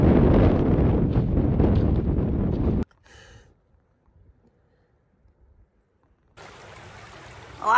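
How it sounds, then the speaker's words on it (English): Strong icy wind in Alaska buffets the microphone with a loud, roaring rush for about three seconds, then drops to near silence before gusting back in for the last stretch. "now we have to walk straight into the icy wind to get back to it"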